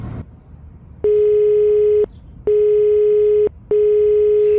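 A telephone rings for an incoming call with three long, steady electronic tone bursts separated by short gaps. The rings are loud and clear, with no talking over them.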